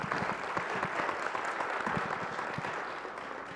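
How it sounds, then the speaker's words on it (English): An audience at a community forum on stopping violence breaks into applause: dense, steady clapping from many hands, close and fairly loud, easing slightly toward the end. "Is everybody okay with seeing a part 2 to this? Please, yeah, by show of applause,"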